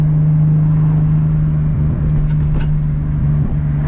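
A 600+ horsepower single-turbo Nissan 370Z engine drones steadily at close range with a low, throaty hum, rising slightly in a brief rev near the end.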